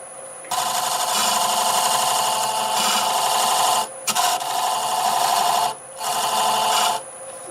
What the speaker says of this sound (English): I'm going to use my skew here to try to get that little angle on it